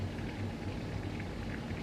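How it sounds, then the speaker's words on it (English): Steady rain falls outside, a dense, even hiss of drops with no gaps, moderately quiet and continuous throughout. "I'm sure you can probably hear the rain"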